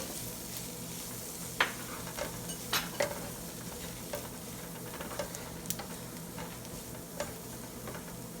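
Spice powders sauté with onions in hot oil for a green peas egg curry, giving a soft, steady sizzle. Occasional sharp spatula scrapes and taps break through it at irregular intervals, close by with no talking.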